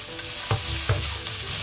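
Garlic sizzles in a hot wok with vegetables and mushrooms, a steady close frying hiss broken by a few soft scrapes of stirring, with no talk.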